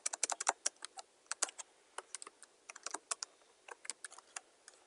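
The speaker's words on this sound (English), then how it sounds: "So I'll just type administrator." Light, crisp keystrokes on a computer keyboard as a username is typed during a Windows Server 2012 R2 setup, coming in irregular quick runs and single taps, close and fairly quiet, with no talking.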